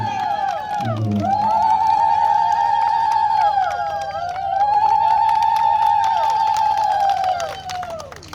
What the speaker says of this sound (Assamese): আইমাতৃসকলক হাত চাপৰি আৰু উৰুলি ধৰিলে